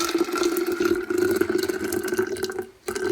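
Water pours steadily into a shaker bottle for a matcha protein drink, a continuous close splashing stream with a brief break near the end.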